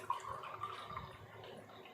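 Water pours into a glass mug in a steady, soft trickling stream, faint and close, lasting a couple of seconds with no talking.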